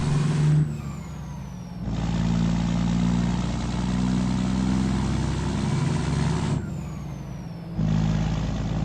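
Steady heavy-truck engine drone in American Truck Simulator, heard from outside on an 18-speed rig, a low rumble running throughout with two brief dips as gears shift.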